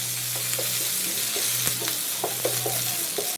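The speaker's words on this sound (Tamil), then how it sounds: "அதையும் சேர்த்து லோ ஃப்ளேமில் வச்சு நல்லா வதக்கிக்கலாங்க" A handful of curry leaves sautés in a pan on a low flame, giving a steady close sizzle and frying hiss with occasional stirring scrapes and crackles.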